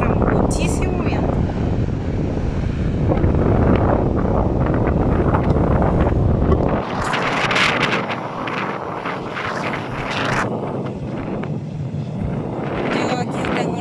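Strong wind gusting by the Paine River in Torres del Paine, a loud roaring buffet across the microphone that surges and eases, with a voice speaking over it.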